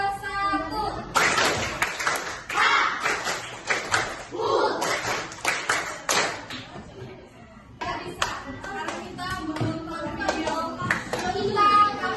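A class of children claps a short rhythmic pattern together in a classroom, the sharp claps coming in bursts with brief pauses, with children's voices and chatter mixed in around them.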